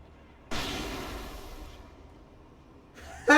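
Grenade explosions in Alan Wake Remastered: a loud blast bursts out and rumbles away over about a second, then a second sharp, bright burst hits right at the end.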